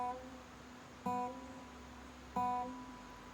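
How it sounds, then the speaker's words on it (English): Acoustic guitar hammer-ons played outdoors, faint and close: two separate plucked notes, each followed by a quick rise in pitch as a finger presses down, set against steady background hiss. "And the hammer-on would sound like this."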